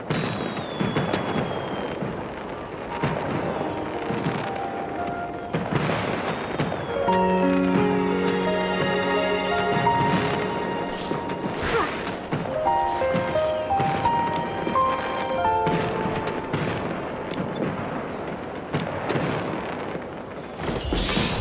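Fireworks launch and burst in the Infinity Nikki video game, a long run of loud, repeated booms and crackles layered over bright game music.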